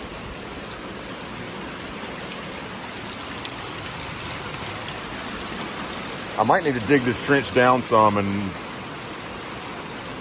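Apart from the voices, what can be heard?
rain falling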